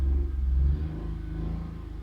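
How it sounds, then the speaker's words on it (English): Electric car motor driven by a 48-cell LTO battery revs hard, a loud steady low-pitched whine and rumble that dips slightly partway through, with no talking. "Put some revs on first."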